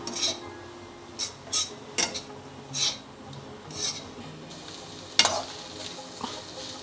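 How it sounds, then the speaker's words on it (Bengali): Snake gourd with a little sugar fries in a pan, its steady sizzle broken by a series of sharp spatula scrapes and clinks against the metal at a loose rhythm, close and clear, with no voices. "দেখুন চিচিঙ্গা ভাজাটা হয়ে গেছে।"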